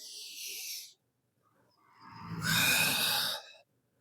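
Pilates breathing, a short airy inhale followed after a pause by a longer, fuller exhale with a breathy voiced sigh quality, close to the listener with no talking.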